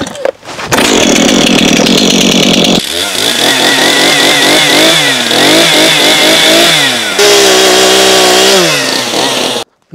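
A Stihl MS 251 petrol chainsaw runs loud and close, revving in a steady high whine with repeated dips and surges in pitch, without pauses, apart from a short low idle at the start.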